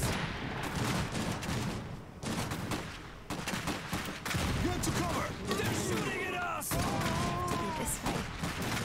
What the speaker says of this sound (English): let's fire a grenade